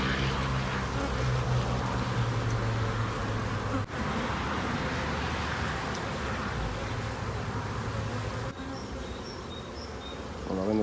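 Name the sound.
honeybees buzzing around hive during colony merge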